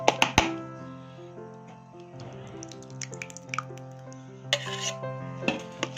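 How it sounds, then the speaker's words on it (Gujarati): Utensils clink against a bowl as yogurt goes into a Gujarati raita. A few sharp metallic chinks open the clip, followed by softer scraping and light clinks from a spoon stirring, all close by with no speech. "હવે આપણે આમાં દહીં નાખશું."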